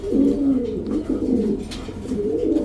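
A pair of crested Giribaz pigeons with tight throats coos close by, a steady run of low, rolling calls that continue without pause, with no voices.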